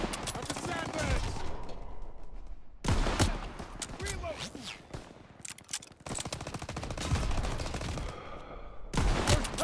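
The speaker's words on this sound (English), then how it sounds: "That pack 38 still has a gunner. It's firing on our tank." Sustained machine-gun and rifle fire from a World War II battlefield in Call of Duty WW2, with a tank under fire. Dense bursts of rapid shots run the whole time, loud and close, broken by brief lulls and shifts in intensity.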